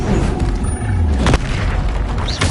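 Spells cast in the Hogwarts Legacy video game: a steady, loud magical rumble with a sharp bright burst midway and a rising swoosh near the end, with no one talking.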